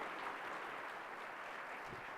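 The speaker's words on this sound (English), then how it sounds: "You've heard the applause" An audience at a dinner keynote applauds in a steady, dense wash of clapping. It is fairly faint and distant and holds evenly throughout, with no one talking.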